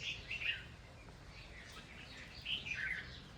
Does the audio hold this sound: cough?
no